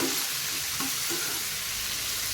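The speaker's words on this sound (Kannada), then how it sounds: "ಇದು ಕೂಡ ಚೆನ್ನಾಗಿ ಈರುಳ್ಳಿ ಒಟ್ಟಿಗೆ ಕಾಯಿ ಒಟ್ಟಿಗೆ ಫ್ರೈ ಆಗಬೇಕು" Tomato, onion and grated coconut fry together in a pan for an onion saagu. A dense, even sizzle crackles steadily and close, with faint stirring underneath and no talking.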